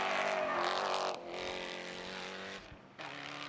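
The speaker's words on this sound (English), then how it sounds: "Let's have a listen to this Ginetta built V8." Ginetta-built 6.3 litre V8 race car engine at a circuit, a loud sustained roar that drops in pitch and level partway through, then a brief dip before the engine picks up again.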